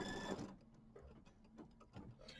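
A domestic sewing machine tacks down appliqué fabric pieces for a mini quilt, a brief, fairly quiet burst of stitching followed by soft handling clicks and faint rattles.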